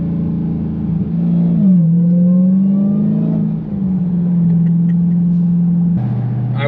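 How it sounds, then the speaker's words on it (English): A 797 hp 2021 Dodge Charger SRT Hellcat Redeye Widebody drones loudly and steadily from inside the car, its low exhaust note rising and falling with throttle, with a faint supercharger whine on top. "The exhaust sounds good. It's got some tone to it."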